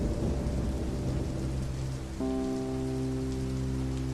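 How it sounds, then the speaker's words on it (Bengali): Heavy, steady rain pours on a surface in an animated story set at harvest time, a dense continuous wash that holds loud throughout, with low tonal music entering partway and continuing beneath. "হঠাৎ খুব বৃষ্টি হতে লাগলো"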